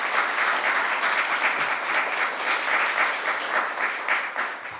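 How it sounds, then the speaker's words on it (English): Sustained applause from a crowd, dense steady clapping throughout with no gaps, moderately loud. "Let's give them a round of applause."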